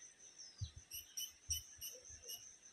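Faint, rhythmic, high chirping pulses from insects and birds fill a cool forest near the Sahasradhara waterfall in Sitakunda, Chattogram, with soft low bumps underneath and no voices.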